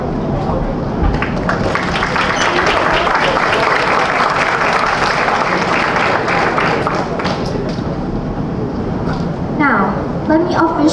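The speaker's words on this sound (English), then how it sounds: "Please join me for another round of applause." A business forum audience gives a sustained round of applause, dense clapping from many hands filling the room evenly from start to finish at a strong, steady level.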